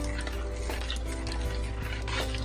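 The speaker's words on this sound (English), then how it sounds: "You just let that cook a little bit" Lentil soup cooks in a pot with a steady, close bubbling hiss and a faint stirring scrape throughout, no voices.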